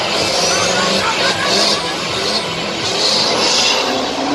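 A diesel-powered monster truck roaring through its jump run at a Monster Jam event in Minneapolis, loud and sustained engine noise with surging revs over arena ambience.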